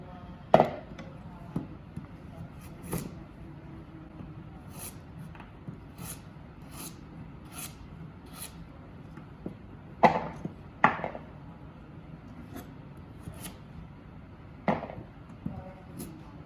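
A knife chopping vegetables on a board, cutting them into quarter pieces, with scattered sharp, distinct knocks spread irregularly over a quiet stretch, some grouped in quick pairs, close and clear.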